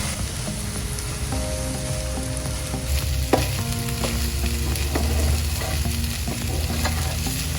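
Cooked rice for vegan Indonesian nasi goreng sizzles and fries steadily in a pan, with a continuous close hiss and scattered scraping, clinking stirring strokes throughout.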